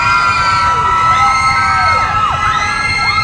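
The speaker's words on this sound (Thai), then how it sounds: "ทุกท่านกดเสียงกรี๊ดไปแล้ว" Crowd at a live fan talk event screaming and cheering loudly and continuously, high-pitched shrieks rising and falling over a dense roar.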